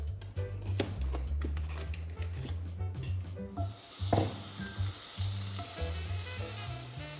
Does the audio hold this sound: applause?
no